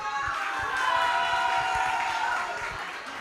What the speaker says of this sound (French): On acclame Walad Club, s'il vous plaît.